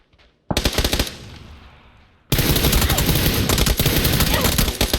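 Rapid automatic gunfire from a video game, a short burst followed by a fading tail, then a sustained loud stream of rattling shots lasting several seconds.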